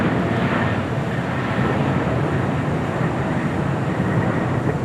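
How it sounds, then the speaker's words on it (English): A Japan Airlines airliner rolls down the runway at LAX, a steady broadband roar of jet engines and wheels holding at constant, fairly loud level throughout with no voices. "the Japan Airlines now rolling down to 5 right"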